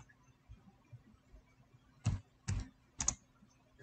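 Soft, scattered clicks at first, then three crisp keystrokes typed on a computer keyboard in a quiet room while entering a command at a command prompt.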